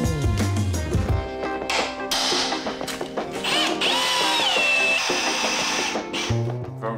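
A power drill bores a hole for a DIY engine mount in a CAT engine swap, whining in bursts with mechanical rattling and shifting pitch, close and loud.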